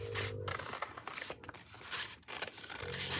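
Scissors snipping through blue sticker paper at close range, a series of crisp scraping cuts with short pauses between strokes, fairly quiet with no voices.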